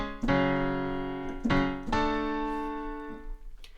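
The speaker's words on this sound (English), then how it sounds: "They're called open fifth chords," Open fifth chords in a grunge rock style, three sharply struck, sustained chords ringing out one after another, each decaying before the next, with a softer hit near the end.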